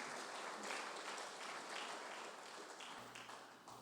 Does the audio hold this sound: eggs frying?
no